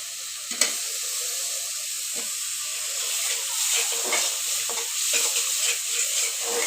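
Tomato added to spices frying in a pan for an egg curry with eggplant: a steady, close hiss and sizzle with a sharp clink near the start and soft stirring scrapes throughout.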